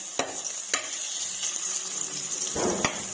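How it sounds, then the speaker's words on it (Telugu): Washed tamarind being fried in a pan for idli and dosa spice powder, a low sizzle with a few sharp clicks of a spatula against the pan, close and quiet, no talking. "ఇది కూడా కొంచెం లైట్గా తడి పోయేదాకా వేయించుకుంటే సరిపోతుందండి"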